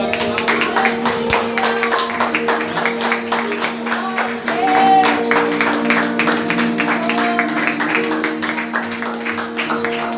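A congregation applauds at a closing church service for a missionary event, steady rhythmic clapping over sustained music tones, with a voice heard briefly in the mix.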